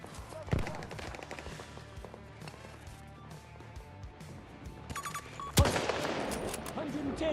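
Gunfire in the video game Battlefield 6, scattered shots and rapid automatic bursts under steady background action, with two heavy close blasts, one early and one louder one later, followed by dense firing.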